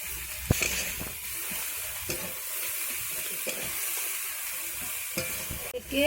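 Straw mushrooms and potatoes frying in a pan with mustard paste, a continuous loud sizzle broken by occasional spatula scrapes and knocks against the pan, no voices.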